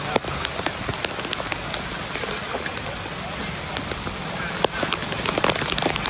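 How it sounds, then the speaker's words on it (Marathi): Heavy monsoon rain falls in Nalasopara during flooding, with a dense, loud, continuous patter and scattered sharper drop impacts nearby. "खूप पाऊस पडतोय, पाणी भरलंय पूर्ण"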